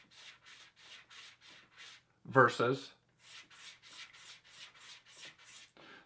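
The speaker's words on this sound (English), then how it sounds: "if you listen to what your stropping sounds like, you can oftentimes tell if you're doing a good job" A straight razor stropped on a hanging strop gives a rhythmic series of soft, close rubbing strokes, about a dozen evenly paced swipes, broken midway by a brief spoken word.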